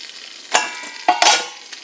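Eggs fry in butter in a pan with a soft steady sizzle, broken by a few louder scraping or stirring bursts from a utensil, close by and without talk.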